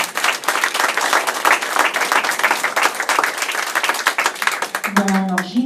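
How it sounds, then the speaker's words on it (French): An audience at the Cap sur les Arts arts festival in Perros-Guirec applauds with dense, sustained clapping from many hands. It stays loud and steady for about five seconds, then a voice starts speaking as the applause fades. "je voudrais qu'on l'applaudisse"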